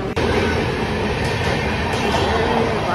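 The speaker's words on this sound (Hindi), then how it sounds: "तो भाई स्टेशन में है और यहाँ सब खड़े हैं" A train at a railway station platform in India, with a loud, continuous rumble of rolling railcars and a high metallic whine close by, and faint voices under the noise.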